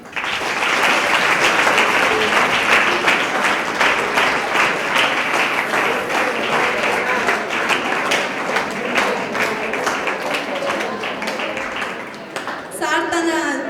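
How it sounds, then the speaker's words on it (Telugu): Students at a motivation class in a model school burst into loud, sustained group applause. The dense clapping fades toward the end, where a voice begins to speak. "సార్కి అందరూ ఒకసారి క్లాప్స్ గట్టిగా కొట్టాలి."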